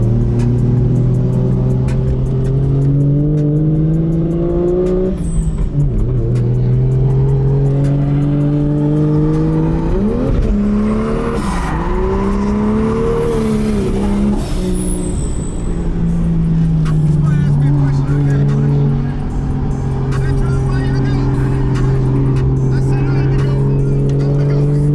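Nissan S15 Silvia Spec R drift car engine revving hard and steadily throughout, pitch rising and falling with throttle blips and shifts, with occasional tire squeal and light talk mixed in.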